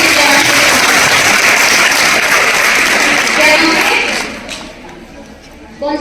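A classroom of schoolgirls claps together in a dense burst of applause that tapers off after about four seconds, leaving murmuring room noise and a final thump.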